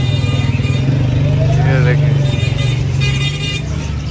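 Busy market street near a bird shop with steady car and motorcycle traffic, engines droning continuously and a horn tooting now and then, while a person talks over the noise throughout.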